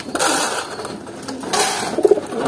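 Pigeons kept for breeding coo softly and rustle close by as they feed, low throaty murmurs mixed with fluttering and pecking noise.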